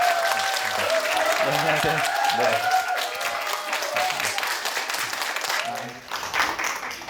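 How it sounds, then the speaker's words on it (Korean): An audience at a Korean tarot master's book concert welcomes the speaker with a long round of applause, dense clapping throughout while a voice greets the room over it. "타로마스터 정해도님을 큰 박수로 맞아주시기 바라겠습니다"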